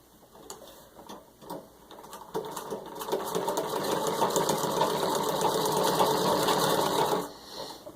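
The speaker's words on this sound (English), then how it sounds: "So I've got 6 layers of denim, which were already stitched once for photo used in the ad, and just going to show you how well it stitches." An antique 1923 Singer 127 Sphinx treadle sewing machine stitches through six layers of denim, starting with a few slow ticking stitches and then running into a steady, loud mechanical clatter before slowing to a stop.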